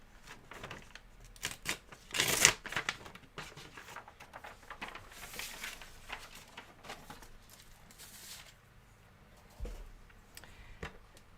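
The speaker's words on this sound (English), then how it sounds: "So I'm just tearing a bit of grid paper." Grid paper is torn by hand during a cardmaking and papercraft demonstration, giving a few scattered rough ripping bursts with quieter rustling and handling noises between them, close to the microphone.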